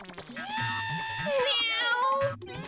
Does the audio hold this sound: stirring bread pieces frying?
no